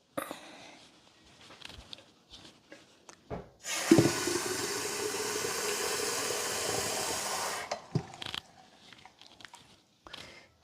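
Water pours steadily for a few seconds from close by as a houseplant is watered, framed by soft handling clunks and small movements before and after.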